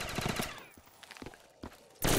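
Gunfire in Black Ops 3 custom zombies, a fast rattling burst at the start, a few spaced single shots, then another loud blast at the end.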